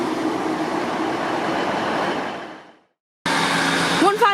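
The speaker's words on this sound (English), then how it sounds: "Now departing Peterborough station." A train departs Peterborough station with a loud, steady rumble and rush of wheels on track that fades out, followed after a short silence by nearby platform noise and a rising squeal.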